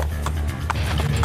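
Horse hooves clip-clop in Assassin's Creed II, a steady run of close, clear hoof strikes over a constant background rumble.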